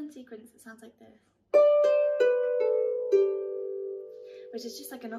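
A Manx harp plays an upbeat phrase of plucked notes that ring and overlap, loud and close, after a brief stretch of talk.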